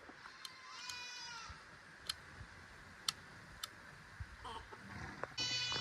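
Goats bleating on a farm, several high, wavering calls spread across the stretch, fairly distant and faint, with sharp ticks and small knocks in a quiet outdoor background.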